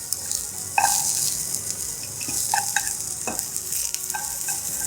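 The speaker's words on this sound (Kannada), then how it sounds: "ಈರುಳ್ಳಿನ ಇದರಲ್ಲೇ ಸ್ವಲ್ಪ ಹುರ್ಕೊಳ್ಬೇಕು" Onion fries in a pan for Mangalorean soya gassi with a close, continuous sizzle and bubbling, broken by occasional stirring clinks and scrapes.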